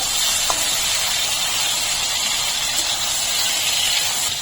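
Tomatoes with bay leaf and salt fry in a pan, giving an even, steady sizzle and hiss throughout with no talk.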